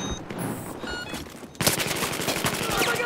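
Rapid automatic gunfire in Battlefield 4 close-quarters combat, a dense burst of repeated shots that erupts loudly after a stretch of quieter background game noise.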